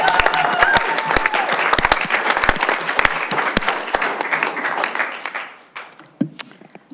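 A school board meeting crowd applauds award-winning employees, a loud burst of many hands clapping that holds steady, then tapers off into a few scattered claps and light room noise.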